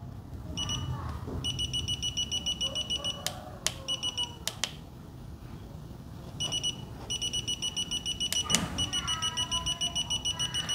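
A Bosch GLL50G laser line level beeps in a fast, even pulse at 90 degrees for most of the stretch, briefly stopping midway, with a few sharp clicks and faint background noise.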